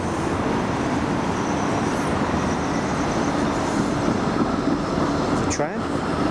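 A Blackpool tram passes along a street on a sunset walk, a steady rolling rumble and roadway noise close by, with people talking over it.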